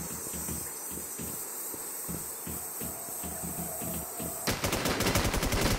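Gunfire in the multiplayer PvP shooter War Z, rapid automatic bursts thudding under a steady insect-like buzz, then a dense, louder volley near the end.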